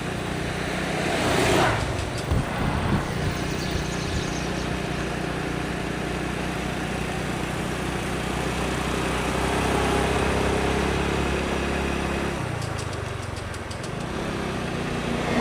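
A motorcycle rides along an uneven town road near Beanibazar, Sylhet, its engine a steady close drone with wind and passing traffic, easing and revving again near the end.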